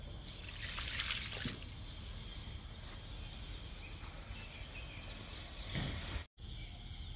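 Aloe vera liquid fertilizer poured onto the soil around a young, healthy drumstick plant growing beside a pomegranate, a steady close trickle with a louder gush near the start and another near the end, birds faint outdoors.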